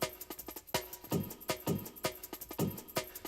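Drum break in a jungle production plays a fast chopped MIDI pattern, crisp snares and kicks with bright hats hitting in a quick syncopated loop, clear and close with no talking.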